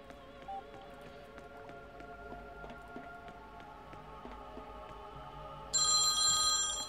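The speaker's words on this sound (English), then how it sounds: "That would be an alarm." A phone alarm tone rings steadily and fairly faint through quiet background, with a louder burst near the end; no talking.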